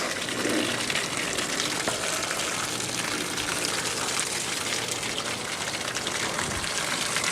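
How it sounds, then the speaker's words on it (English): Water from a garden hose runs steadily through a pond filter built from a 1952 GMC truck part, a continuous close gushing splash with no pauses. "So this right here is just off my garden hose running through there."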